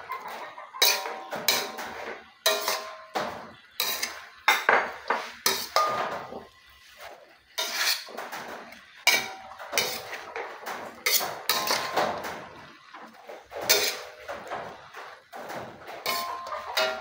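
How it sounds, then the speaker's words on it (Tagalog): A spatula or ladle clanks and scrapes in a pan as sautéed chop suey ingredients with chicken liver, chicken and shrimp are stirred, a repeated uneven run of metallic knocks close by. "haluin lang natin ng mabuti"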